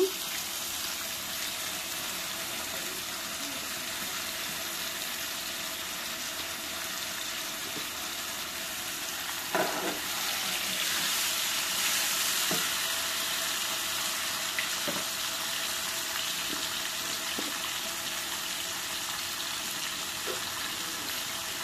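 Steady hiss of tomatoes frying in a pan, a continuous sizzle with a few soft clinks partway through.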